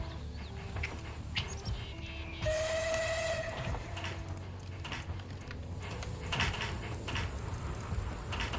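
A steam locomotive whistle blows one sustained tonal blast over a steady rumble of rail noise inside Garry's Mod, with hissing and chuffing continuing around it.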